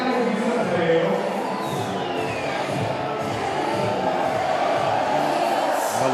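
A packed arena crowd roars steadily at a women's water polo match between Italy and Hungary in Budapest in 2022, a dense, continuous wash of voices that holds for the whole stretch.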